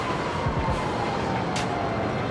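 Continuous rumbling of a train rolling past in GTA 5, with a low clattering of wheels and a faint whine riding over the steady noise.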